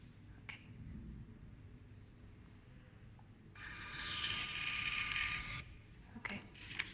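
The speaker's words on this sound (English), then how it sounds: "Now, second one can print. Printer function, print text." An FP605 POS terminal's built-in printer runs for about two seconds, a buzzy whirring burst of the thermal print mechanism, preceded and followed by faint clicks and handling noises in a quiet room.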